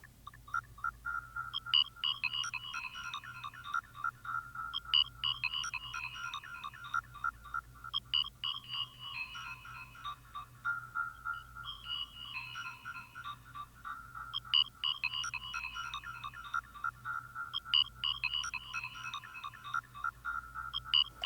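Cherry Audio Galactic Reverb presets wash a repeating bright, chime-like synth phrase in long, drenched reverb tails, quiet and cycling in regular bursts over a low steady hum.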